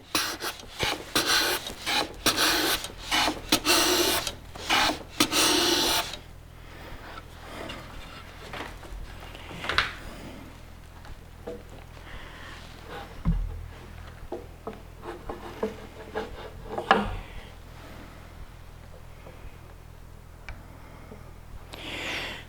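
A chamfer is cut on a wooden drawer part with quick, close rasping strokes for the first six seconds, followed by quiet scraping and occasional light taps.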